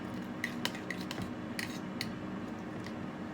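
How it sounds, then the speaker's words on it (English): Eggs with salt and pepper get a quick stir in a bowl, a utensil clinking and scraping lightly in a few faint, irregular taps. "Give that a quick little stir."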